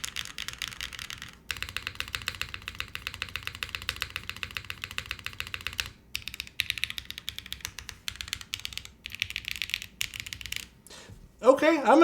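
Rapid, steady keystrokes on a Jris 80 TKL mechanical keyboard, close and clear, continuing in dense bursts with brief pauses and a short burst of speech near the end.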